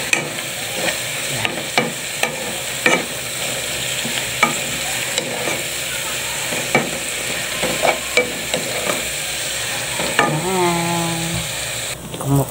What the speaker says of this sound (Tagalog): Haloin natin saglit.